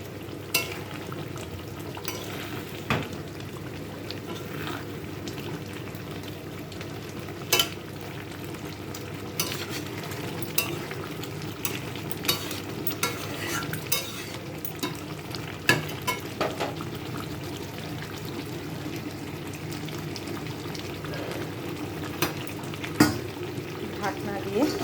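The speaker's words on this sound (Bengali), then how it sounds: "আস্তে আস্তে আমি সমস্ত ভাজাগুলো দিতে থাকবো, দিয়ে আমি একটু নাড়াচাড়া করে দেবো হালকা।" Fried brinjal pieces are stirred gently in a pan with spinach over a continuous sizzle, with scattered scrapes and taps of a spatula against the pan throughout.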